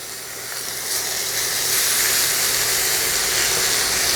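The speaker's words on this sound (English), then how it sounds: "we're just going to sear them maybe 2 to 3 minutes on each side" Steak pieces searing in a hot pan, a steady loud sizzle and hiss that swells after the first second and holds without a break.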